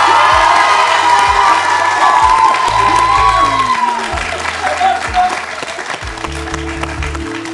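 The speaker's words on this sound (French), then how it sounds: "Je crois qu'on peut l'applaudir, Selma" Audience applause and cheering at a quiz final, loud clapping with whoops and shouts from the crowd, children's voices among them, fading somewhat toward the end as talk continues underneath.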